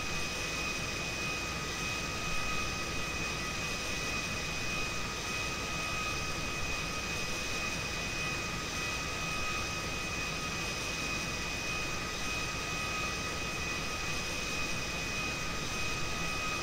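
A jet plane in flight in a GTA video game gives a constant, close engine roar with a steady high-pitched whine. The drone holds level throughout, with no talking over it.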